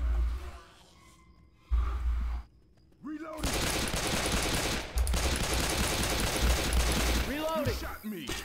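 Dense automatic gunfire in Left 4 Dead 2, loud sustained bursts of rapid shots with short pauses, carrying on for several seconds amid game whooshes and effects.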